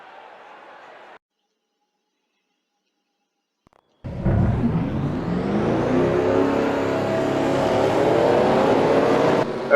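Race car engines in a racing video game, a brief muffled murmur, then near-silence before a loud engine start bursts in and holds a rising, revving roar to the end.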